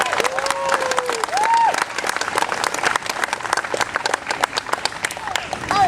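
At an RSPCA protest, an outdoor crowd breaks into steady, fairly loud applause and clapping with some cheering, while people talk over it and whistle-like tones rise and fall now and then.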